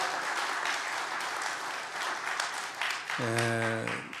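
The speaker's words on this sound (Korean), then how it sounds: "So let's give them another round of applause." A church congregation applauds with dense, continuous clapping that holds steady throughout, and a voice briefly speaks over it near the end.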